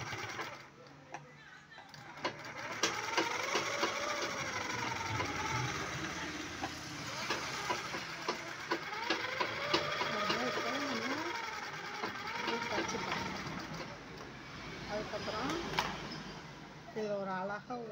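A sewing machine stitches the front neckline of a lined 38-inch blouse with a steady, close whirring drone, while a person talks throughout.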